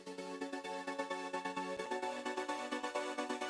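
Simple synth pad chords play softly and steadily, with a bright, sustained harmonic texture and a light rhythmic pulse running underneath. No voices are heard.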